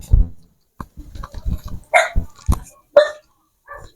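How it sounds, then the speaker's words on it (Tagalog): Several dogs bark in a narrow residential alley, close and loud, in a quick irregular run of yaps and barks with brief pauses between. "May mga aso."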